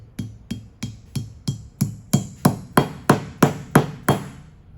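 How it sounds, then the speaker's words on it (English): A dead blow hammer taps a bushing into a pump endcase about a dozen times in an even rhythm, each thud close and firm, growing slightly louder. "using a dead blow hammer, I work in a circular motion"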